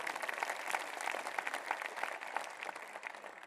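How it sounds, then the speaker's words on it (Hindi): Audience applause at a Jain community poetry gathering: a steady, dense wash of clapping at moderate distance, fairly soft and even throughout, with no voices. "एक बार इन्हीं तालियों को बड़ा कर दीजिए"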